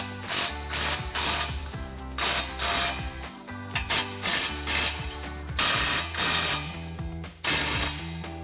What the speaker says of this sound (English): Now we can come back in and tighten it down with our 17mm socket and our 17mm wrench.